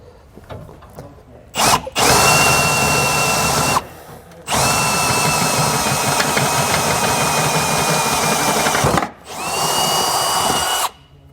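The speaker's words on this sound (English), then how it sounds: "I'm going to come back with a 3/16 inch drill bit and enlarge the holes" Loud, close power drill with a 3/16 inch bit enlarging holes whines in several bursts: a quick blip, a couple of seconds, one long steady run, then another, with pauses between.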